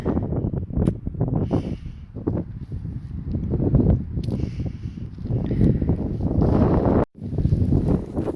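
Strong gusty wind buffets the microphone continuously on the Arizona Trail near the north rim while it snows, roaring and rumbling in uneven surges with a brief dropout near the end.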